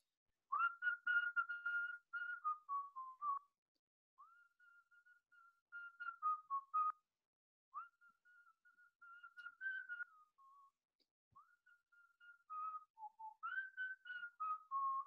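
A single person whistles a song tune for children on a video call, clear melodic phrases in several bursts separated by short pauses, near and fairly quiet, with no talking.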